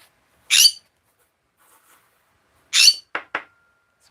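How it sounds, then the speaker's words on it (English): A pet bird kept indoors gives loud, sharp shrill calls: two longer bursts a couple of seconds apart, then a quick pair of shorter chirps, with silence between them. "my bird is really loud"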